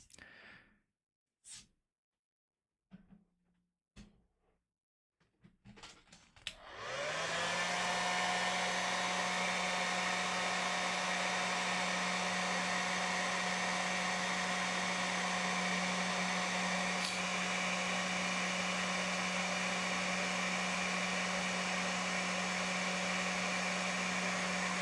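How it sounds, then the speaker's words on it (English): A hair dryer blows on glued origami paper: a few faint handling sounds and breaths come first, then the dryer switches on and runs at a loud, steady whirring hum, close and unbroken, through to the end. "I'm gonna hair dry it so that I can let go of this"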